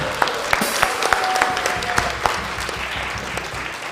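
A Christmas Eve service congregation gives a round of applause, moderate steady clapping with scattered sharp claps and a faint sustained tone beneath.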